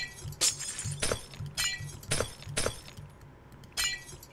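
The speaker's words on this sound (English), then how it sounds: "Who doesn't like the sound of breaking glass in Minecraft?" Glass blocks breaking in Minecraft, a series of about seven crisp shattering bursts spaced roughly half a second apart, each with a sharp crack and a tinkling tail, close and clear with no talking.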